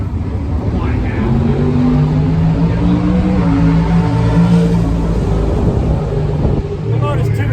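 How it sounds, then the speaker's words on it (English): The turbocharged Kawasaki ZX-11 funny bike drag racer, Steve Rice's machine, fires up and runs with a loud, steady, deep engine rumble that holds throughout without letting up. "We're going to fire up the legendary Steve Rice funny bike."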